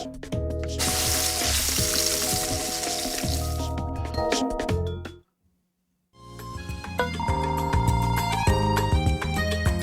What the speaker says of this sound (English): The mere sound of my beef sizzling will have your mouth water.